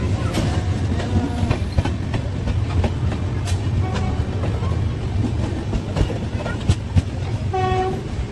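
A train passes over changing railway tracks near a New Delhi station, with a loud rumble, irregular clacking of wheels over the points and a brief horn blast near the end.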